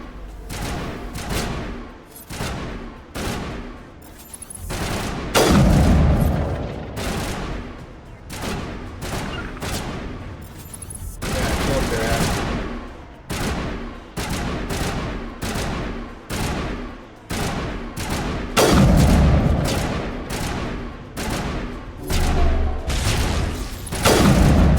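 Repeated bursts of gunfire and booming impacts from the video game Mass Effect 1, rattling volleys and heavy thuds recurring steadily throughout a long firefight with no speech.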